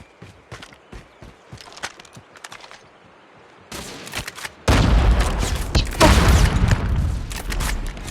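Gunfire in Call of Duty: Modern Warfare: scattered sharp shots and footsteps at first, then a sudden loud sustained barrage of close automatic fire.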